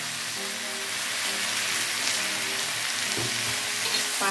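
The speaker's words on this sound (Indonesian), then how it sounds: "Masukkan cabenya dan kita tumis sampai matang, sampai aromanya keluar." Bitter melon and chili stir-frying in a hot pan, giving a steady, loud sizzle and crackle that runs the whole time with light stirring scrapes and no voices.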